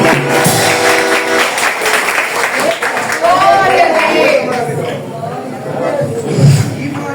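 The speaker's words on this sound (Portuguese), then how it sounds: "Uma salva de palmas para Jesus, o Rei da Glória." Applause at an evening family church service, a congregation clapping for Jesus with crowd chatter and voices mixed in, sustained and fairly loud for several seconds.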